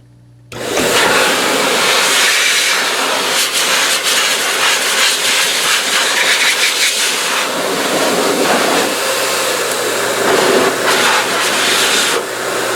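A SKSYZN adjustable-speed pet dryer fitted with a flat nozzle starts abruptly and roars with a loud, steady rushing hiss of air very close by, holding constant for several seconds.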